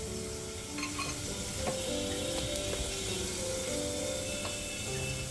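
A spoon stirs mushroom chilli with corn flour, black pepper and soya sauce in a pan, giving quiet scraping and clicking strokes over a low, steady sizzle, with no talking.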